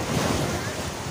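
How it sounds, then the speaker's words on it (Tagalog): Strong ocean waves surge and crash in a continuous loud wash, with wind buffeting the microphone and a voice faintly underneath. "malakas yung alon"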